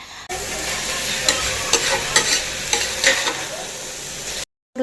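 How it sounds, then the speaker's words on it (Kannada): Pulao ingredients being mixed in a pressure cooker: repeated spatula scrapes and taps against the metal pot over a steady low sizzle, fairly close and with no voices, ending in a short silence. "ಈಗ ಎಲ್ಲವನ್ನು ಕೂಡ ಒಂದು ಸಲ ಚೆನ್ನಾಗಿ ಇದನ್ನು ಮಿಕ್ಸ್ ಮಾಡ್ಕೊಳ್ತಾ ಇದ್ದೇನೆ."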